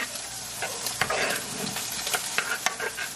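A mashed pork chop mixture sizzling in a hot pan as it is stirred, with a steady crackle and a few sharper scraping strokes, close and fairly loud.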